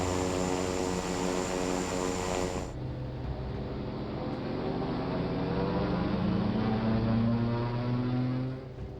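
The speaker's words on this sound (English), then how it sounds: "Sounds like those two engines were operating at different power levels." Droning twin propeller aircraft engines running at different power levels, two separate tones beating against each other, one pitch sliding upward; a hiss cuts off early on.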